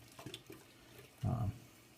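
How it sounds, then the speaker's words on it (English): Tap water runs for a brief, fairly loud burst while a shaving soap bowl is rinsed out; a few soft knocks come before it, and it stops quickly. "rinse out the old bowl here again"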